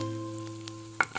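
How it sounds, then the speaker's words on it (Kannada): Urad dal and chana dal fry in a drop or two of oil in a hot pan, a faint sizzle over a steady hum, ending with a quick clink of utensil against the pan. "ಸ್ವಲ್ಪ ಚೆನ್ನಾಗಿ ಫ್ರೈ ಆಗಲಿ ಅಂತ ನಾನು 1-2 ಡ್ರಾಪ್ ಎಣ್ಣೆ ಹಾಕ್ಕೊಂಡಿದ್ದೀನಿ"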